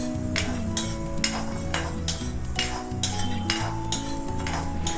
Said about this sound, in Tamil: சிறுபருப்பை வந்து நம்ம நல்லா வறுத்து எடுத்துட்டாலே போதும்.